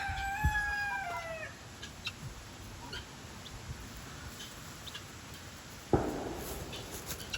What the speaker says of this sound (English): That's a floofy chicken.